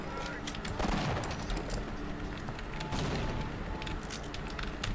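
Grenade blasts and gunfire from the Half-Life video game, a dense, loud, continuous barrage of booms and crackle filling the whole stretch, with a voice talking underneath.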